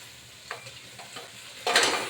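Sea crabs scrape and shift in a hot pan with mustard oil, then a louder sizzle of frying rises near the end, close and fairly quiet.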